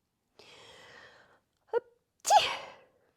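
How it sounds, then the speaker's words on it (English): A single sneeze: a drawn-in breath, a short catch, then a sharp, explosive burst, close and fairly loud in a quiet room. "I am sneezing."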